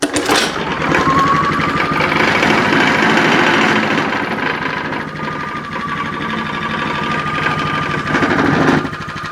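A Champion 2800 watt generator engine fires up and runs steadily, a loud, continuous buzzing drone with a faint whine on top that holds close and even for several seconds before dropping off at the end.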